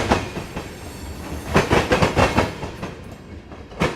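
A freight train of tank cars, some empty and some loaded with ammonia and diammonium phosphate, rolls past nearby with a rhythmic clickety-clack of wheels over rail joints in repeated bursts.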